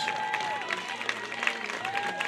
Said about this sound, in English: gets a well-deserved round of applause